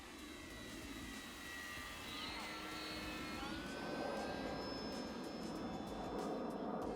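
A Durafly P-40M V2 Aleutian Tiger RC warbird makes a slow pass with landing gear and flaps lowered, its motor drone steady and fairly faint, with a sweeping whine that shifts pitch as it passes.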